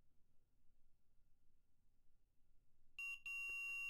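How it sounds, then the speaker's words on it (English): An electronic buzzer on an Arduino temperature-sensing circuit goes off after near silence, a loud steady tone that stutters briefly and then holds on continuously. "we'll even hear the buzzer go"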